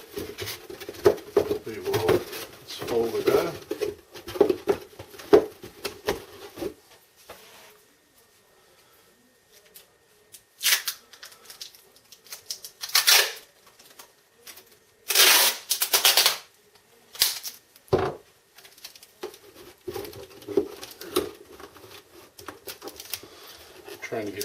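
Someone folds up a cardboard box by hand. Scattered creases, taps and sharp crinkling bursts come between quiet pauses, with loud, close crackles in the middle.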